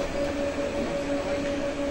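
A modern tram riding through Krasnodar, heard from inside as a steady rolling rumble with a sustained tonal motor whine, fairly loud and continuous.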